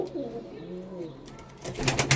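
Soft pigeon coos murmur close by in a coop, followed by a burst of fluttering wing flaps near the end.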